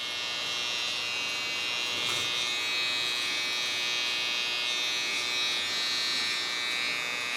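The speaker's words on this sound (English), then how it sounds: "Do this with a small clipper, but holding a neckline." A small electric hair clipper cutting a short neckline, a steady close mechanical buzz running unbroken throughout with slight shifts as it moves through the hair.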